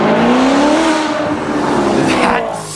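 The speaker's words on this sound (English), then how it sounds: "Then you need a Maserati Quattroporte and that sound." Maserati Quattroporte with a Ferrari 4.2 liter V8 revving up loud and close, its exhaust note climbing steadily in pitch with a raspy edge.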